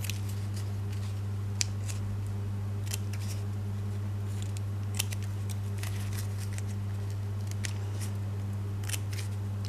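Scissors snipping through material, with small crisp cuts at irregular intervals over a steady low electrical hum.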